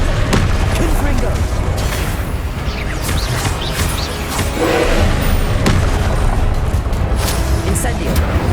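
Confringo fire spells blasting in Hogwarts Legacy, a dense, loud run of booming explosions and crackling impacts layered over one another with no pause.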